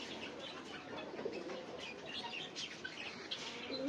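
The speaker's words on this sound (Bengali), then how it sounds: "এই কবুতর" A pigeon coos softly at a distance amid faint chirps and a low outdoor background, with no talking.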